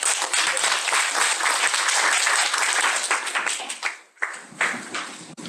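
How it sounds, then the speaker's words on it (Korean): An audience at a Korean conference on job creation and quality design applauds a professor's presentation with dense, sustained clapping that thins into scattered claps and fades near the end. "뜨거운 박수 부탁드립니다"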